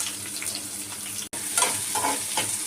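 Sliced onion and green chillies fry in groundnut oil with fennel seeds, giving a steady close sizzle with a few soft stirring scrapes and a brief dropout partway through; no one speaks.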